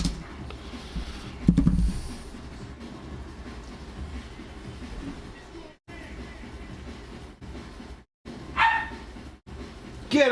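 A small dog barks in a few sharp bursts, one near the start and another toward the end, over a steady low indoor hum with brief gaps of quiet.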